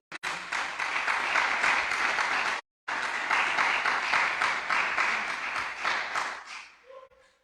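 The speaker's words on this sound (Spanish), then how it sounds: "Dele ese aplauso fuerte a él" Church congregation applauding loudly for about seven seconds, a dense steady patter of many hands with one brief gap partway through, then fading out at the end.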